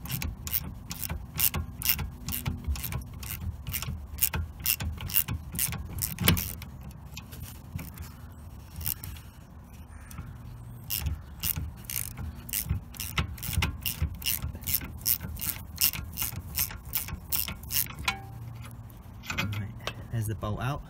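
A rapid, steady ratchet clicks almost without pause while a bolt is undone on the rear suspension of a VW Golf Mk4, close and loud over a low mechanical rumble.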